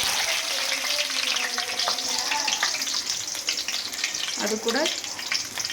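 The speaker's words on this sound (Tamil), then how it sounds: "இப்போ ஒரு கடாய் வச்சு எண்ணெய் ஊற்றிட்டு பூண்டு இஞ்சியும் போட்டுப்போம்." Garlic and ginger frying in oil in a kadai give a steady, close hiss of sizzling, with brief stirring scrapes and a short spoken remark near the end.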